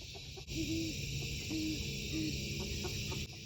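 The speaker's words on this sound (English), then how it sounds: "there's an owl up in this tree" Low hooting calls, three short tones, sound among clucking chickens over a steady background hiss.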